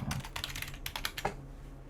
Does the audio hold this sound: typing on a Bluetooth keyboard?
yes